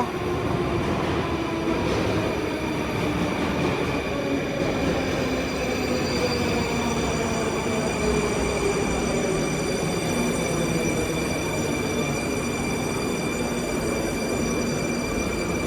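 A metro train runs through a deep Moscow underground station about 271 feet below ground, producing a loud, continuous rumble for the whole stretch. Long gliding squeals and whines from the wheels and motors ride over the roar.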